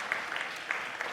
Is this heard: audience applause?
yes